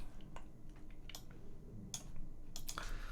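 Typing on a computer keyboard while building a Calamares 3.2.40-1 package on ArcoLinux, with scattered close key clicks in an irregular rhythm over a low background hum.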